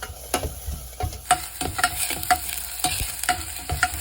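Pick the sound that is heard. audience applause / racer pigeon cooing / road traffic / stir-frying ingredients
stir-frying ingredients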